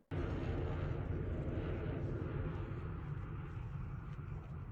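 A jet aircraft roars overhead in a scene from the film 28 Days Later, a loud, steady low rumble that holds from start to finish.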